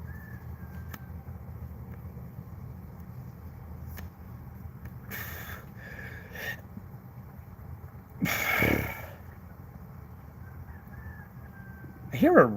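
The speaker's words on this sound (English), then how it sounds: "I hear a rooster crowing." A rooster crows at midnight, distant and faint, with a couple of brief louder bursts, while people talk quietly nearby.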